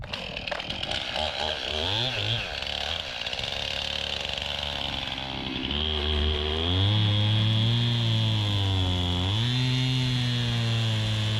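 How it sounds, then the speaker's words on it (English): Chainsaw cutting through a frozen log with wedges driven into the kerf, its engine revving and bogging in uneven surges, then settling into a louder, steadier roar close by. "hope you noticed how I expertly used my saw to eject these wedges"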